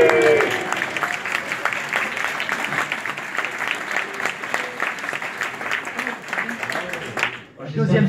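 A crowd at a public political meeting in Ploufragan applauds loudly and continuously, with voices mixed in, before the clapping drops away abruptly near the end.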